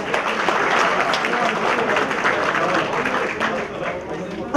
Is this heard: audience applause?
yes